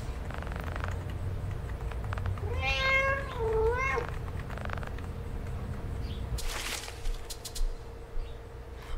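A cat meows in a wavering, drawn-out cry in the video game FNAF Into the Pit, heard over a low, steady ambient drone with faint creaks and clicks.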